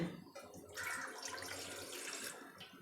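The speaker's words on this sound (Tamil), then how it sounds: "உங்களுக்கு தேவையான அளவுக்கு தண்ணி ஊற்றிக்கலாம்" Tap water runs steadily into a tea pot set on a stove, a continuous close splashing hiss lasting a few seconds without speech.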